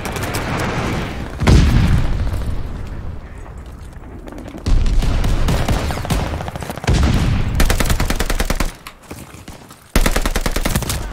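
Airstrike bombs from a friendly air support call exploding in the shooter game Call of Duty: Vanguard, a run of loud, heavy booming blasts and bursts of rapid gunfire in several separate waves, close and dominant.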